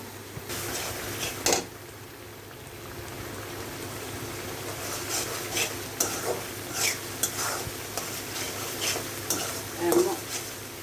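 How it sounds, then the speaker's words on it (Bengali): A spice masala with onion and tomato fries in a pan with a soft, steady sizzle, while a spoon stirs and scrapes in repeated strokes, fairly quiet and close. "এখন মশলাটা ভালো করে কষানো হোক"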